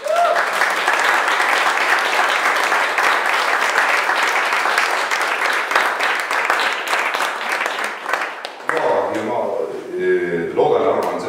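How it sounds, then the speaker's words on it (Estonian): An audience at an Estonian education-funding panel discussion gives a loud, dense round of applause for local governments for about eight seconds, then it fades as a voice begins speaking over the hall. "teeme ühe suure aplausi nendele omavalitsustele"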